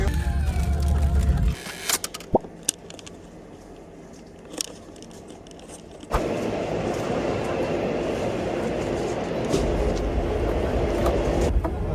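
Rumbling inside a moving long-distance overnight train in Xinjiang, China: low rattling noise, a stretch of sparse clicks and knocks, then the steady heavy rumble returns.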